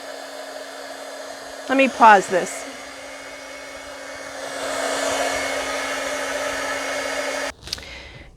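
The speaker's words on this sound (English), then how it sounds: "I'm using my old heat gun and it's rather loud." An old heat gun drying ink on ribbon blows with a loud, steady roar, briefly cut by a short spoken remark, then shut off abruptly near the end with a click.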